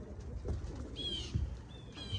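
Racing pigeons at a one-loft race site, with soft low coos repeating a few times close by amid light outdoor background noise and brief higher bird chirps.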